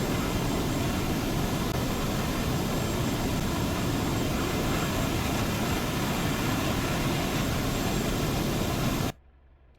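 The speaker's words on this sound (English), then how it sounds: "Let's fly something that is not a logistics aircraft." Aircraft engine of a combat plane flown in a flight game set over the Sinai, a steady loud broadband roar with a whining jet tone held continuously, then cut off abruptly near the end.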